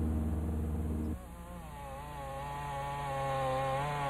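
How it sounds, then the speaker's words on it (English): Chainsaws cut through thick trees for pulp in a lush, moist national forest in southeast Alaska: a loud, steady high-revving engine drone that drops in pitch about a second in, then holds a sustained whine with slight pitch wavering. "Chainsaws cutting swaths across the thick trees for pulp."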